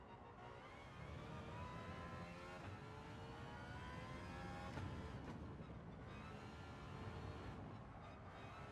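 Race car engine in Gran Turismo 7 during a Sunday Cup race, a loud continuous roar holding steady with slight rises in pitch as it revs, with no talk over it.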